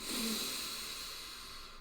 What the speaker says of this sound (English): Remember, you're breathing in through the nose